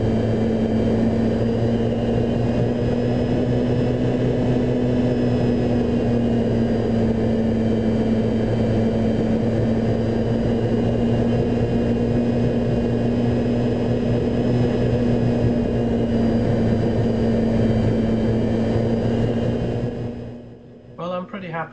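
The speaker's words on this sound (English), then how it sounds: "I'll let you listen to the motor so you can understand how it's controlling the throttle." An RC plane's electric motor, throttle managed by an APM 2.6 autopilot in cruise mode, hums with a steady tonal drone and propeller buzz at nearly constant pitch, then throttles down and cuts out near the end.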